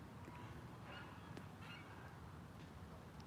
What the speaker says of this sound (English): Geese are honking.